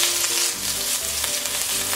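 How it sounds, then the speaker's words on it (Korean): Minced garlic sizzles steadily in hot oil for pork neck pilaf, a continuous close, bright frying hiss with faint crackles throughout and no voices. "기름에 다진 마늘을 볶아주세요"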